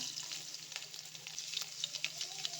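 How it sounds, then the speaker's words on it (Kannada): Cumin seeds fry in hot oil, a faint but steady crackling sizzle with small pops scattered throughout. "ಎಣ್ಣೆ ಕಾದಿದೆ ಒಂದು ಕಾಲು ಸ್ಪೂನಷ್ಟು ಜೀರಿಗೆ ಹಾಕ್ಕೊಳ್ಳೋಣ"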